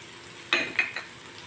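A brief scrape and stir of ginger, chilli and garlic paste in a hot pan with a soft sizzle, two quick strokes close up.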